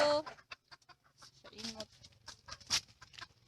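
A chicken clucks in short, irregular bursts close by, with a louder squawk partway through and soft background noise between calls.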